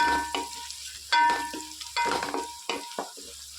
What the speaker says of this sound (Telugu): కొంచెం బాగా ఫ్రై చేద్దాం ఉల్లిపాయలు